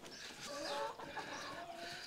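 Chickens cluck and murmur softly at close range as they are let out of their coop on a farm, a faint, continuous chatter of short calls.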